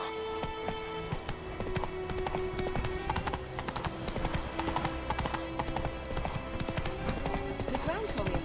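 Horse hooves clip-clopping at a steady trot in the video game Witcher 3: Blood and Wine, a continuous rhythmic clatter set against game music and ambience.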